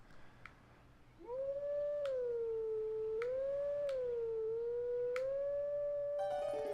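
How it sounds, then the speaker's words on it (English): Link, transformed into a wolf in The Legend of Zelda: Twilight Princess HD, lets out a long, clear, wavering howl that rises and dips in pitch, with a few sharp clicks sounding over it. "Your howling is off."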